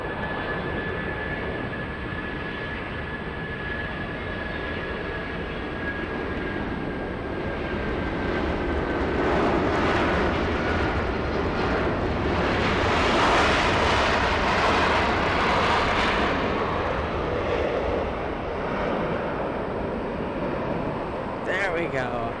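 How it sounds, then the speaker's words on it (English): United Boeing 757 bound for Newark taking off at Los Angeles, a broad rising jet roar that swells to a loud peak in the middle and then eases, with steady engine rumble throughout and people talking over it. "757 taking off almost like a rocket"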